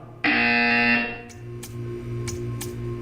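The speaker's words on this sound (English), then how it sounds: "When you hear the buzzer, stare at the art." A loud, steady electronic buzzer in the video game Portal 2 drones for under a second, then stops, leaving a low hum with a few faint soft swishes.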